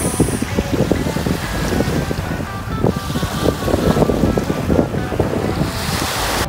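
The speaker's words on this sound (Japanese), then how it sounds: "今ボートにもう早速乗って漕ぎ出しています" Water lapping and splashing around a small two-person rowing boat with steady wind rumble, irregular soft sloshes of oars dipping, continuous and fairly close.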